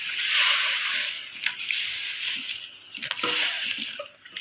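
Water is poured into raw mango chutney in a cooking pot, making a steady, soft splashing hiss for several seconds that swells and fades slightly.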